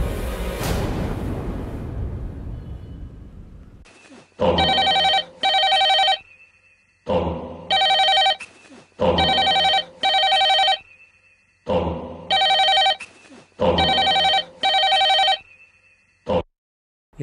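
A telephone rings in loud repeated double bursts, four ring pairs separated by short pauses, following a noisy rumbling sweep at the start; no one speaks.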